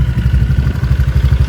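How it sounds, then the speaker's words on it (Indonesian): A motorcycle fitted with a deep bass aftermarket exhaust runs close by, a loud, dense, throbbing low pulse with rapid even firing beats and no talk. "Yang saya dapat dari knalpot ini adalah plusnya adalah suara dia padat banget ya."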